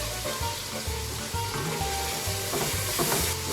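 Beans hitting a hot pan in a home kitchen, a loud, steady sizzle and crackle with soft scraping from stirring throughout.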